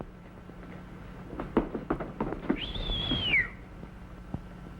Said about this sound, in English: He is now ready to whistle at the girl to make her angry.